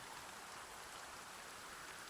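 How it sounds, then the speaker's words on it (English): Light rain falling in the Dragon Quest I + II HD-2D Remake video game, a faint, steady, even hiss of drops with no voices or other sounds. "You can hear some light rain."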